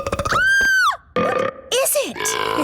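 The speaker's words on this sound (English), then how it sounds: "It seems to be a box of burps" Cartoon burps erupt from a magic box in a children's animated fairy-kingdom show, a series of loud, drawn-out, pitch-bending belches separated by short gaps, close and alone.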